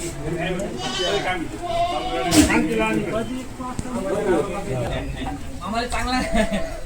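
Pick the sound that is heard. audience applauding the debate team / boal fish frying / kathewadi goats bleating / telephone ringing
kathewadi goats bleating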